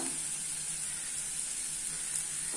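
Grated carrots fry in a pan for carrot rice, giving a steady, even sizzle that holds constant from start to end, close and moderately loud with no talk.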